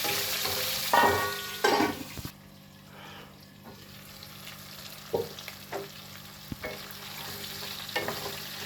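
Onions with chat masala cook in a pan, sizzling close by, with a few loud stirring scrapes and clanks near the start and softer knocks later, and no talking.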